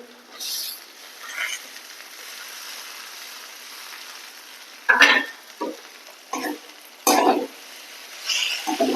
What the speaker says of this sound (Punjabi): ਹੁਣ ਆਪਾਂ ਟਮਾਟਰ ਨੂੰ ਭੁੰਨ ਗਏ ਨਾ